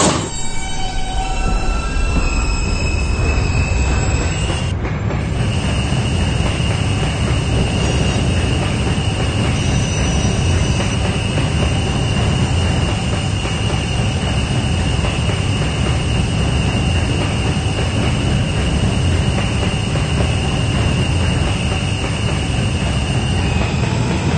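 An R160B-1 B subway train in the PTA Subway game accelerating toward Herald Square, a loud continuous motor whine and rail rumble with steady wheel noise and a high sustained tone throughout.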